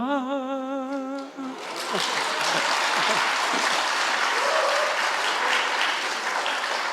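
A church congregation breaks into applause after a song ends, the clapping loud, dense and sustained across the room with no talk over it.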